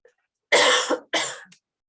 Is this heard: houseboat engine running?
no